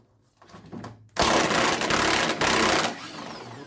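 Strut bolts on a front strut of an AWD Lexus GS are loosened with a power tool, which gives a loud, harsh, continuous whirring burst of nearly two seconds after a few soft handling noises.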